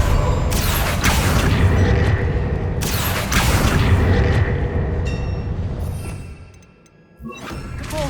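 A Bombarda spell cast in Hogwarts Legacy sets off loud, booming blasts: two heavy explosions with rumbling decay, then a quieter lull and a final thud.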